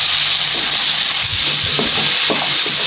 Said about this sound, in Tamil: நல்லா அந்த ஆயிலோடு ஃப்ரை ஆகணும் ஆனியன்ஸ் எல்லாமே.